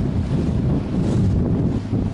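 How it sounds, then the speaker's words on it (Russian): Strong southeasterly or southwesterly wind with gusts on a river at the end of the fishing season, a steady loud rushing buffet across the microphone with a low rumble and no voices. "Такой ветер опасен,"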